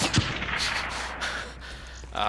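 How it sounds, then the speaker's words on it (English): Suppressed gunfire aimed at the player in a Black Ops III multiplayer match, a few soft, quick shots among ambient game noise and other sounds, heard up close. "I think someone with a silencer is just shooting at me"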